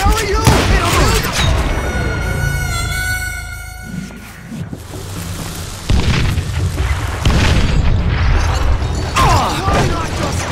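Dynamite blasts and rapid gunfire from the Western shooter game Call of Juarez: Gunslinger, loud and close, with booming explosions and crackling shots that continue throughout, partly under a voice.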